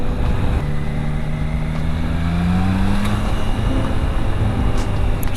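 A Triumph Tiger Sport 660 motorcycle engine drones steadily and loudly during quick overtakes on the road, its pitch climbing and shifting as it revs, with constant wind and road noise beneath.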